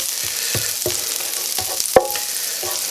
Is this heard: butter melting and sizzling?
yes